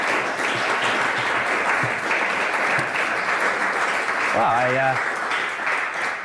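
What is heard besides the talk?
audience applause at an art auction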